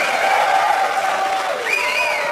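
A comedy club audience cheers and applauds loudly, a dense wash of clapping with whoops and shouts, sustained throughout and ending with a rising cheer.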